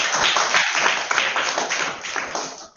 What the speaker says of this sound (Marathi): सगळ्यांनी टाळ्या वाजवा धनश्रीसाठी.